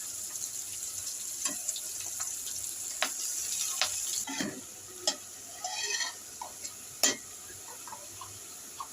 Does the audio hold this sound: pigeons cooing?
no